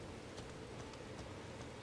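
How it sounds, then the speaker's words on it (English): Steady rain falls in the open-world game Elden Ring on the roads through Limgrave, a soft, constant hiss of drops with faint pattering, heard alone at low level. "it is raining. There are weather effects."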